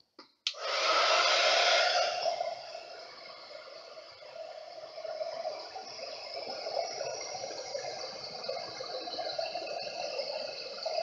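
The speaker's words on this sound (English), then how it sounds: "Then we want our embossing tool." A heat embossing tool blows hot air over embossing powder on a stamped card, starting with a click and a loud close whoosh that eases into a steady, slightly fluttering airy hiss continuing alone.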